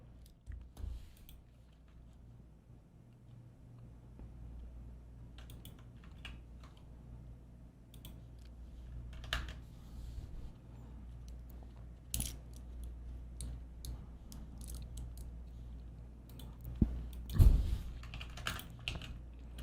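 Steady typing on a computer keyboard, a continuous run of light clicks and clacks with a few louder key strikes near the end, close and unaccompanied by voices.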